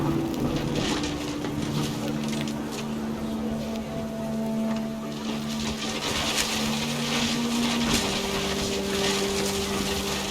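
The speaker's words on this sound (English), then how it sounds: "Rain came down in buckets then," Rain pours down in What Remains of Edith Finch, a steady dense hiss with faint low droning tones beneath it.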